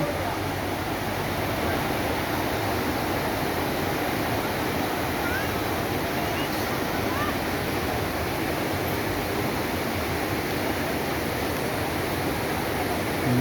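A waterfall beside a temple in Odisha, rushing as a loud, unbroken roar of water throughout, with no pauses or changes.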